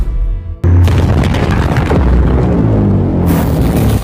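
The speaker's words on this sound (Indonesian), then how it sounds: "Dan Ahlong pun lalu meledakkan Ahjin menggunakan ledakan apinya yang sangat kuat" A powerful fiery explosion in an animated fight bursts in suddenly after a brief tone, followed by a loud, sustained rumbling roar with crackling debris.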